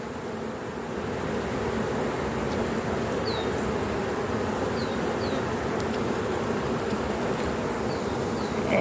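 Honeybees around production hives fill the air with a dense, steady buzzing swarm hum, continuous and fairly close, with a few faint bird chirps above it.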